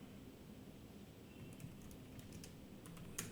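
Soft clicks of a computer keyboard as a docker compose up command is typed, sparse keystrokes in a short burst near the end over a quiet room hiss, faint and close.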